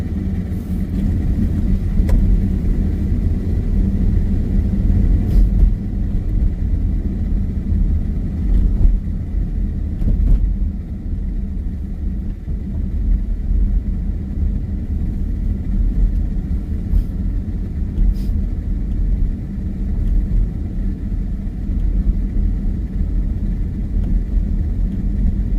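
A car driving on the road, a continuous low rumble of engine and tyre noise from inside the cabin with a few faint knocks, steady throughout and with no talking.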